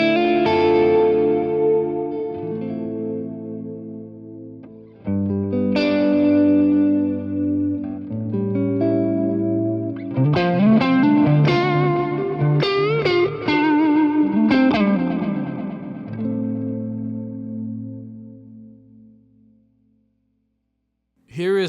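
Electric guitar driven through a Super AT overdrive pedal, playing chords and melodic phrases with gritty distortion and a chorus-like shimmer, loud and continuous for about twenty seconds before stopping.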